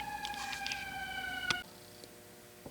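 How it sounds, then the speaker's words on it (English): An ambulance siren sounds steadily nearby, then cuts off abruptly partway through, heard in a workshop setting where a Clausing milling machine is being oiled. "The ambulance just went by, in case you didn't hear that."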